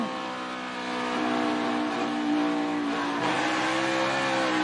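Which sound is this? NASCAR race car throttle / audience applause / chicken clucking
NASCAR race car throttle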